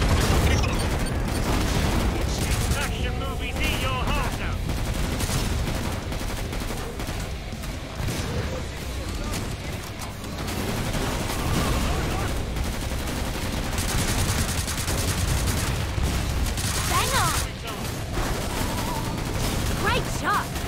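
Rapid gunfire and booming weapon shots from the video game Killing Floor 2 fill a dense, continuous game soundtrack, with bursts layered over constant action noise throughout.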